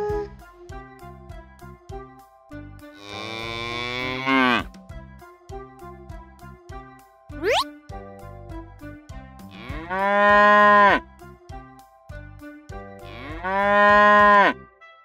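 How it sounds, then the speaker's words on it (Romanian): A cow moos three times, long drawn-out lowing calls, loud and close, with quieter pauses and a brief squeaky sound between. "Vaca face mu!"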